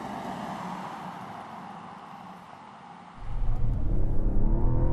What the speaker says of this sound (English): It's just a little burble of a gas engine.